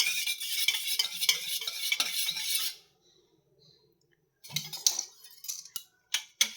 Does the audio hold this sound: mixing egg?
yes